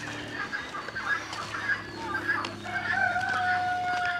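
A rooster crows amid a busy farmyard of clucking fowl, geese, ducks and other birds at a farm caravan site, with steady background noise throughout.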